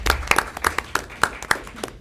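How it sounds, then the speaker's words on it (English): Scattered handclaps at a Milford City Council meeting, a single person or few clapping in an irregular rhythm of sharp, close slaps over about two seconds, with no talk. "I feel like I should clap"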